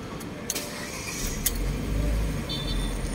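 A Ford Fiesta engine cranks and catches, then settles into a steady low rumble, with a few clicks and a faint jingle of keys near the start.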